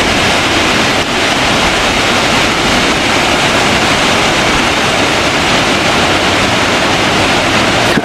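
A mountain stream near the Puy de Sancy in Auvergne rushes loudly and close, a dense, unbroken wash of flowing water with no voices.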